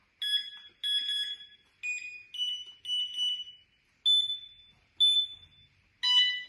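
A series of electronic beeps from a Lixada fishing bite alarm at maximum volume, close and clear, with short pauses between them; the tone setting changes so the pitch shifts from one beep to the next.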